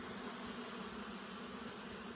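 Honey bees buzz around an open hive while it is being expanded, a steady, dense drone that holds evenly throughout, close and continuous with no pauses.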